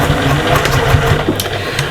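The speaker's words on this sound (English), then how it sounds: "Pop it under your machine. And we're just going to do a little back stitch to start." A domestic sewing machine runs steadily up close, making a short back stitch at the start of a seam on a fabric cross body bag, with a continuous whirring motor hum throughout.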